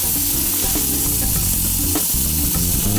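Tomatoes tipped into a hot pan of darkened spices and turmeric sizzle loudly and steadily throughout, with brief scraping stirs from a wooden spoon, and no voices.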